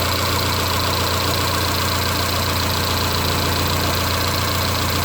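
1990 Honda Accord engine idling when warm with a surging rpm fault, heard up close as a loud, continuous mechanical drone with steady vibration.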